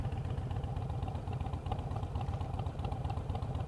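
A Harley-Davidson Iron 883 motorcycle engine runs with a low, loping rumble and rapid uneven pulses, steady and fairly close.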